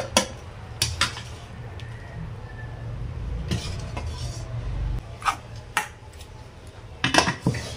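Boiled kudri lifted out of a pot with a strainer, a run of close metallic clinks and scrapes of the strainer against the pot, spaced irregularly over a low background rumble.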